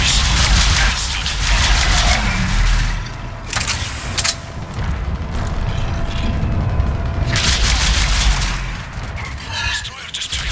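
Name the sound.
Phalanx missiles firing and exploding in video game Mass Effect 3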